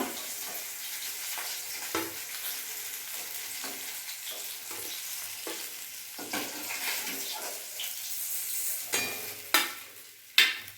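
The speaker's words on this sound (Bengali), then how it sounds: "আমার মাছ ভাজাগুলো হয়ে গেছে, আমি এবার নামিয়ে ফেলবো।" Fish pieces frying in hot oil in a pan on a gas stove, a soft continuous sizzle broken by scattered clinks and scrapes of a utensil toward the end.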